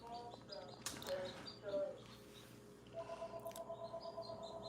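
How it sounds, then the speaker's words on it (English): Small quail chirp and call in short, bright bursts, followed by a run of rapid repeated calls, fairly faint against a quiet background. "even quail roosters sound like just wild birds"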